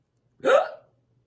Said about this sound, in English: Oh no, he got the hiccups back.